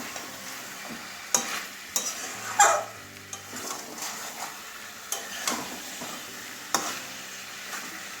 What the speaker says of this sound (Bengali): খাই একটু ভালো করে কষিয়ে নেব